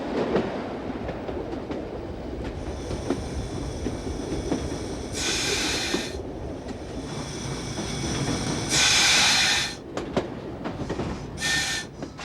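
A train runs along a single-line country branch railway near a junction, with steady rolling rumble and wheel noise throughout, plus several brief high-pitched squeals or hisses standing out over the continuous track sound.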